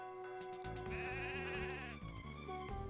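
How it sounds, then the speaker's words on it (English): Sheep bleat in the video game Mother 3, giving a wavering, buzzy electronic cry over steady game music that runs throughout. "Here's our sheep."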